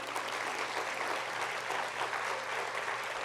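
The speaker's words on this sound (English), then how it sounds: "How about another big round of applause?" Steady, dense applause from a large crowd at a school district awards ceremony, continuous clapping without a break, heard at a moderate distance.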